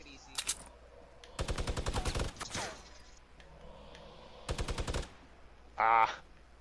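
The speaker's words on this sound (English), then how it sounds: "There's a minigun up here that I'm gonna hit him with." Bursts of rapid minigun fire in Fortnite, three long rattling volleys with short gaps and smaller clicks between, loud and close, followed by a brief tonal game sound.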